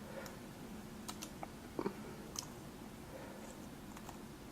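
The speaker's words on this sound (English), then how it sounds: "one of the neat things is you can just start typing" Light typing on a computer keyboard, with scattered soft key clicks coming irregularly and faintly over a quiet background.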